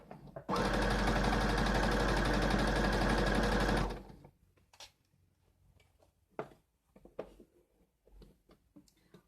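A sewing machine stitches a T-shirt in one steady, loud, fast-running burst of about three seconds, then stops, followed by faint handling clicks and rustles.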